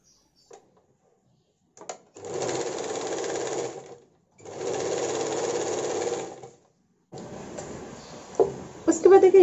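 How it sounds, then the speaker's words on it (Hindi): An electric sewing machine stitches a sleeveless blouse in two steady whirring runs of about two seconds each, then a third burst with some clicking, heard close and loud. "उसके बाद देखिए यहाँ से हम फुल करके सिलाई करना है इस तरीके से"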